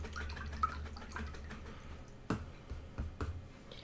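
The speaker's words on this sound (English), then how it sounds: "I'm going to rinse out my brush really well" A watercolor paintbrush being rinsed in a water jar, soft close splashing and a few sharp drips and taps of the brush against the container, quiet and alone.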